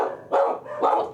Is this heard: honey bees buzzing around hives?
no